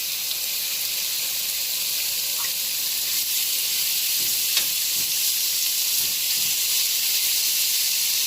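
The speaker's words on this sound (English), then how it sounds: "next I'm going to add the beef, and I'm just going to put that right on in there" Beef sears in a hot skillet with a constant loud sizzle and hiss, broken by a few faint pops and soft scraping, heard up close and without voices.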